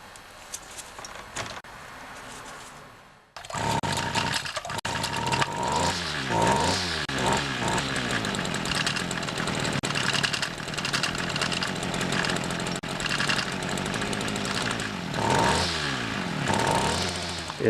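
A Homelite SX135 Bandit two-stroke weed trimmer engine starts after a short quiet lead-in, then runs loud and close with a rich, revving buzz and rises and falls in pitch from throttle changes.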